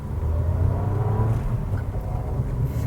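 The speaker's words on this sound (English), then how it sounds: "the mere fact that you hear the engine noises coming into the cabin makes you feel that you're going faster than you really are" Suzuki Celerio GL with a 67-horsepower engine and 5-speed manual accelerating, heard from inside the cabin as a steady low engine drone with road rumble, fairly loud and without talk.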